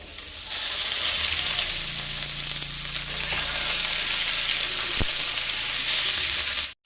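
Loud, steady sizzling of potatoes frying in hot oil, with an occasional stir or clink, continuing without any talk.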